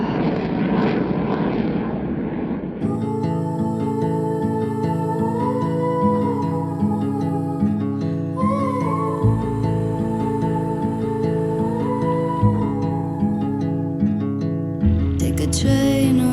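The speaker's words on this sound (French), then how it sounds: "on peut faire voler le drone" Drone flying on a windless, cloudy day, a steady buzzing whine of small propellers holding a constant pitch with slight shifts, fairly close and continuous.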